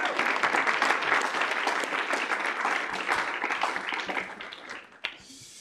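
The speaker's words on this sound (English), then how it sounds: "If we could give them a round of applause." A room of people at a student senate meeting applauds after a resolution passes, with steady dense clapping that gradually thins out and stops near the end.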